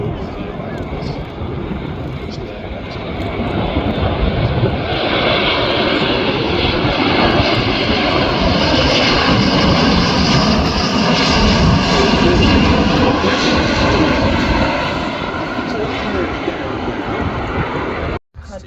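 Large transport aircraft flying at the RIAT air show, its loud engine roar building and holding steady across the whole stretch, with a commentator talking over it.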